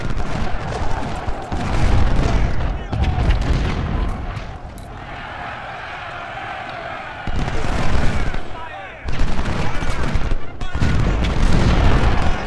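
Musket volleys and cannon booms roll through a Civil War video game battle at Bull Run as infantry charges, with dense bursts of gunfire that rise and fall in waves, heavy and continuous.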